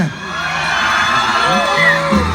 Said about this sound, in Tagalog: isang malakas na palakpakan